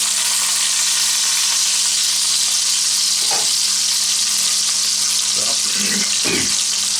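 Tri tip searing in a cast iron Dutch oven gives a steady, loud broadband sizzle throughout, with a few brief clinks and scrapes near the end.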